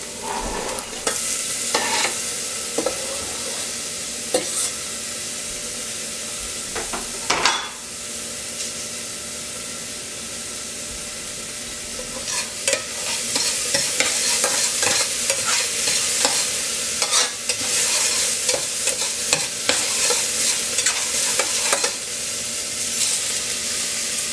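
Yellowfoot mushrooms sizzle steadily in a hot pan for risotto, with frequent scraping and clattering stirs of a utensil against the pan, loud and close, and no talking.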